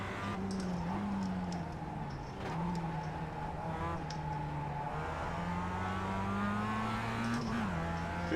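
A BMW M8 GTE race car engine in iRacing holds a continuous loud drone with rising and falling pitch through gear changes, while keyboard tapping clicks faintly underneath.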